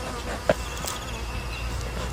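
Honey bees buzz steadily around frames filling with comb at a hive, a continuous close insect drone with one brief knock partway through.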